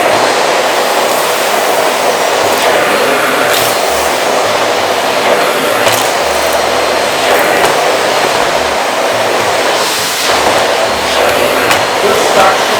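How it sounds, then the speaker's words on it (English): A Miele Complete C3 vacuum cleaner runs at maximum power on regular tiles, giving a loud, steady, jet-like roar with broad airy rush that holds unbroken throughout, with faint voice underneath. "So that was the vacuum performing on regular tiles."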